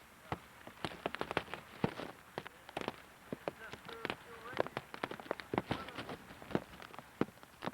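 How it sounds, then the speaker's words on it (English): Hail pelting a beach during a storm, with a helicopter forced to land: faint, irregular sharp ticks and pattering impacts scattered densely across the whole stretch, heard from a distance beneath some quiet voices. "Oh, no, that hailstorm come down too strong for him."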